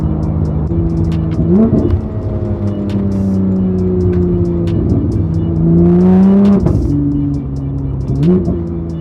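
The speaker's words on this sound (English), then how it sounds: "God, this car sounds amazing." A 2016 Porsche GT3 engine revs hard and loud through a throaty aftermarket exhaust, rising and dropping repeatedly with crackles between pulls.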